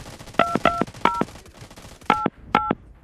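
A telephone number is dialed on a touch-tone keypad: five crisp dual-tone beeps, three in quick succession, then a pause before two more.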